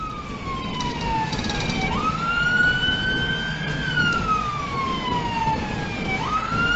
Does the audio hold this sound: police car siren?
yes